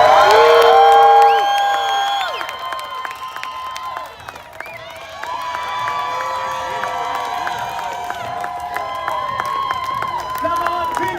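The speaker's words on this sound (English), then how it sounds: "If we pull this off, give us a real World Cup Boston round of applause" Large outdoor crowd cheering, whooping and applauding at the Boston Pops Fourth of July fireworks show, a loud sustained roar with shrill shouts, burst strongest at the start then steady through the end.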